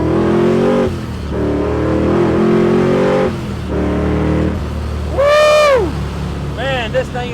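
A Procharged LS1 V8 in a 1968 Chevrolet Camaro restomod pulls hard through several gears with loud, rising engine tones and shift breaks, then a brief high whine swells near the end.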